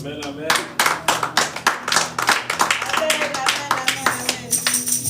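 A church congregation at a Sunday service claps in a steady, rhythmic beat to acclaim God, many hands close and lively, with voices mixed in under the clapping.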